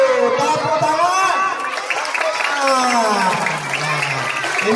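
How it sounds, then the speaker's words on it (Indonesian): A group of children and adults at a school gathering clapping together, a dense continuous burst of applause mixed with crowd chatter and voices, loud and close throughout. "Tepuk tangan."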